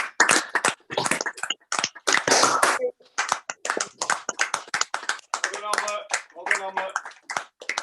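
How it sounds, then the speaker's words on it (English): Online meeting participants unmute and clap for a junior cricket trophy winner, scattered uneven claps arriving in bursts from different microphones, mixed with brief voices. "just unmute our mics and just give another clap for winning the Malcolm Westerby Trophy for 2020"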